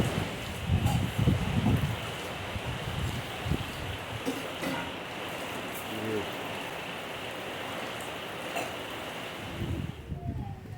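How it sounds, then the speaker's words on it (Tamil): Steady outdoor roar of strong cyclone wind with rustling gusts, a voice speaking briefly near the start and end. "சரியான காற்று அடிக்குது."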